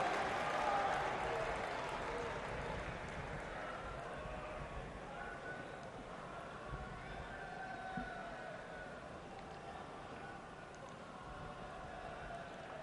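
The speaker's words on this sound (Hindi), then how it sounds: "हम सब जोरदार तालियों के साथ सर को वेलकम करें।" A large audience at a national teachers' association convention in Gandhinagar gives sustained, fairly distant applause to welcome a speaker, with crowd noise and voices mixed in as it slowly fades.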